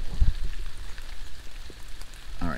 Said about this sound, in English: Just started pouring rain.